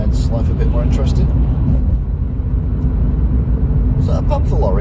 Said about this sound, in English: Another lorry coming the other way, and on my side of the road.